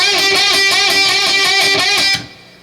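Electric guitar notes picked in a quick, even rhythm, each string bent so the pitch bends and wavers, ending abruptly into quiet.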